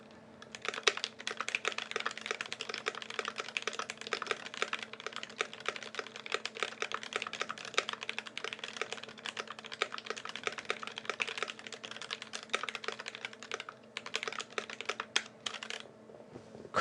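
Steady, brisk typing on an ID80 mechanical keyboard fitted with GMK keycaps, a dense run of close, crisp key clacks with a few short pauses, heard alone without voices.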